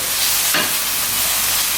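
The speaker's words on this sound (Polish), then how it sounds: "Boczek też już jest podsmażony, więc zmniejszamy ogień." Bacon frying in a pan for spaghetti carbonara gives a steady, close sizzle with a brief louder crackle midway through a short stretch, with no voices.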